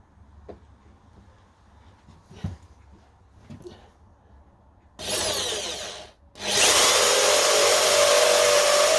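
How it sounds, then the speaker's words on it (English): A corded drill with cutting paste on the bit whines loudly and steadily while drilling metal, stopping briefly then starting again at full power, after some quiet handling noises. "I've gone for the strongest drill I've got, which is a cable drill"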